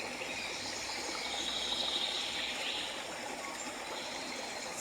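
Running water in a forest flows as a steady, even wash of rushing sound, fairly close and continuous throughout, with no voices.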